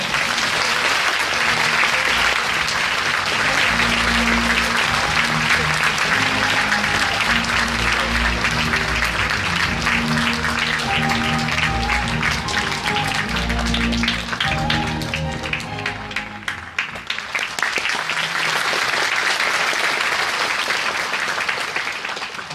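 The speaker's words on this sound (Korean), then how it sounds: "모두 큰 박수로 맞이해 주시기 바랍니다." Sustained, loud applause from a large audience at a Busan social welfare rally, welcoming the association chairman to the stage; dense steady clapping that fades slightly near the end before swelling again.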